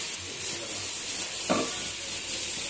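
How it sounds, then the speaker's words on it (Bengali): Carrots frying in a pan for a sweet dish, giving a steady low sizzle with a short, brighter burst of hissing partway through, heard alone without talk. "তো এখন আমি গাজরগুলো দিয়ে দিব, রসটা ভেজে কিছু সময় ভেজে"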